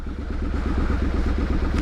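Close and loud, a Triumph Street Scrambler motorcycle runs in a town centre, its engine beating out a regular, thumping low-pitched pulse with crisp repeating firing strokes and a steady rumble underneath.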